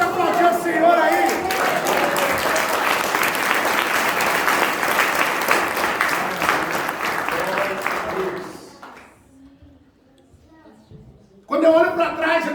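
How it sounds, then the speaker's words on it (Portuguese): Church congregation applauding loudly and steadily for about eight seconds, then fading to near quiet, with a brief low murmur before the clapping surges back at the end. "Quem pode aplaudir o Senhor aí?"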